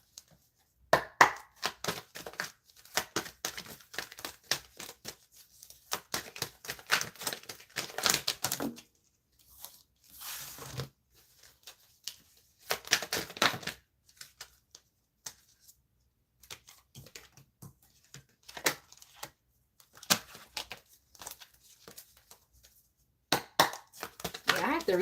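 Tarot cards being shuffled by hand: bursts of quick, crisp riffling and slapping clicks come in uneven runs with short pauses, close and fairly clear.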